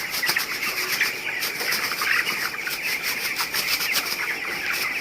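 Twenty-day-old broiler chickens in a poultry farm shed at night give off a dense chorus of high chirps and rustling, steady and close, with no talking.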